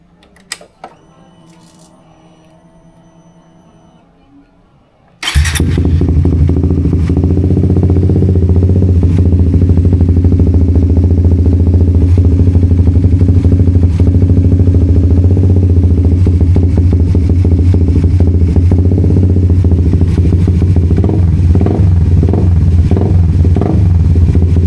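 A Suzuki GSX 150 motorcycle engine, just fitted with a new fuel filter, starts after a brief quiet and then idles steadily and loudly up close with a mechanical clatter.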